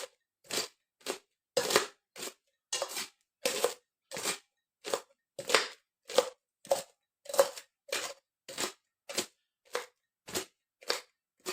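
Cabbage gets finely chopped using a homemade kitchen gadget, making a steady series of about twenty sharp, crisp crunching cuts at an even rhythm with short silent gaps, close and moderately loud.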